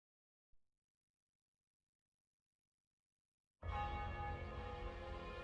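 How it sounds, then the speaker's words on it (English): A single loud, deep bell toll used as a sound effect in a Dungeons & Dragons tabletop game, striking suddenly after a long silence and ringing on with a sustained, humming resonance. "A bell tolls."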